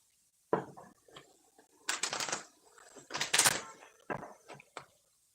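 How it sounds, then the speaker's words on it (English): Someone shuffles a deck of tarot cards not used in a while, giving several quiet bursts of papery riffling and tapping, close to the mic, in an otherwise silent room. "so I'm gonna get a good shuffle"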